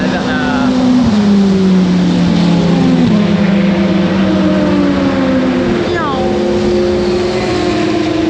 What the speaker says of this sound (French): donc là on va entendre, il y a les voitures qui passent, donc c'est la ligne droite